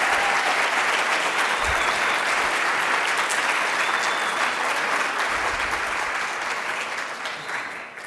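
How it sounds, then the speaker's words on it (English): Loud, dense audience applause at a medical ethics foundation lecture, honoring Ed and Barbara and their family, sustained and steady before tapering slightly near the end. "let's give a really loud round of applause and thank you to Ed and"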